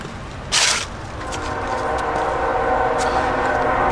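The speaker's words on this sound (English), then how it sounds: "Got the train whistle in the background again." A distant train whistle sounds as a long, steady drawn-out tone behind outdoor ambience, with a brief loud rustle near the start.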